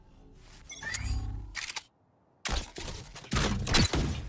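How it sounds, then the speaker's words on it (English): A camera gadget is shot and destroyed in the video game Valorant, with a burst of gunfire, a sharp electronic crunch and a brief silence before more loud shots follow. "My camera is destroyed."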